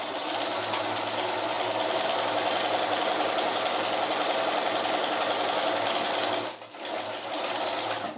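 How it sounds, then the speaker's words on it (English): Sewing machine stitching a 1/4 inch seam on a fabric face mask, a steady fast mechanical whir running continuously, close and loud, with a brief pause near the end before resuming. "I'm going to start by sewing a 1/4 inch seam allowance"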